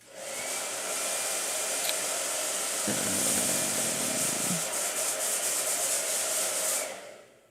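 A blow dryer runs steadily and loud in a painting studio, a continuous broadband whoosh that holds for about seven seconds before cutting off, with a brief lower-pitched shift partway through.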